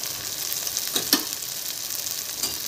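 Tomato masala for chutney sautéing in a pan, a steady close sizzle with a few brief clinks of a spoon stirring, no voices.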